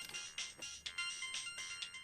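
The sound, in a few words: mobile phone ringtone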